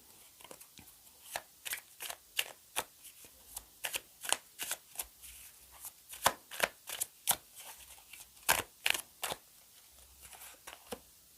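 Oracle cards are shuffled by hand in a quiet room, a long run of crisp, rapid riffling snaps and flutters in irregular bursts, close and clear with no talking.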